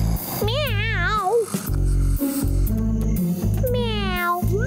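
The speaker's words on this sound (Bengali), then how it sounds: "মিয়াও।" Cartoon cat meowing loudly in a Bengali children's cartoon, with several drawn-out, wavering meows over a steady music bed.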